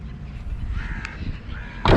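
Crows cawing outdoors, a few harsh calls spread across a couple of seconds over a low rumbling background, ending with a louder, closer burst of noise.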